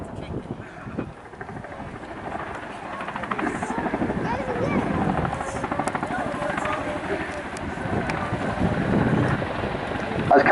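A 16.5-ton helicopter landing at the Duxford summer air show: a loud, steady rotor and engine roar with choppy blade pulses and wind buffeting throughout, and a voice speaking over it.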